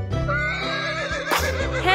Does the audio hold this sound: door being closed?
no